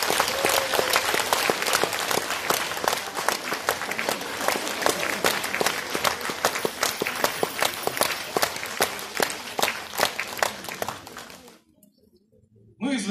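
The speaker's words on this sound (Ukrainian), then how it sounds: "Давайте гучні оплески" Audience at a Christmas holiday concert applauding a children's amateur folk ensemble, sustained loud dense clapping for about eleven seconds before cutting off abruptly.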